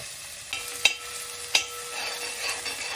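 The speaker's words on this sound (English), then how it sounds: "Saute it for about 2 or 3 minutes till the garlic and ginger turn slightly brown in color." Crushed ginger, garlic and fenugreek seeds sauté in a pan with a steady soft sizzle, broken by a few sharp metallic clinks of a stirring spoon, close by and with nobody talking.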